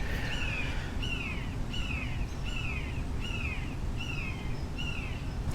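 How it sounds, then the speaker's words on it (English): A hawk calls outdoors with a series of about eight sharp, descending cries repeated at a steady rhythm, moderately distant, over a low background rumble. "There's a hawk behind me."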